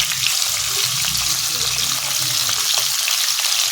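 Paneer frying in white oil in a kadai gives a loud, steady sizzle with light stirring scrapes, close and continuous throughout.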